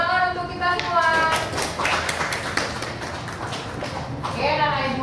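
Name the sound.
applause from a classroom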